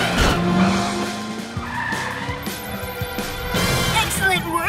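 A cartoon Cat Car revs and skids off with squealing tires, engine whine and clattering effects layered over a busy music score, loud and continuous throughout.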